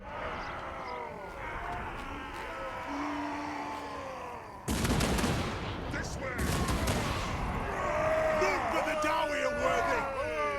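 Organ guns fire in Total War: Warhammer as a dense volley of sharp bursts erupts midway through, loud rattling blasts over a low battle ambience with distant crowd-like noise, a second burst following shortly after.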